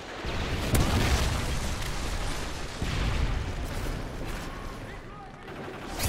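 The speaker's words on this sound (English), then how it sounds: "Friendly Predator missile inbound." Predator missile strike detonating in Call of Duty: Modern Warfare 3 multiplayer, a dense, continuous rumble of blasts and gunfire with a sharp boom near the start and another mid-way, layered with battle noise.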